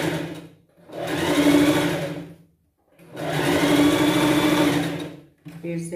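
A sewing machine stitches fabric for a pet costume, a Cinderella-style dress for an animal, in two sustained runs of steady whirring separated by short pauses, close and loud with no talk over it.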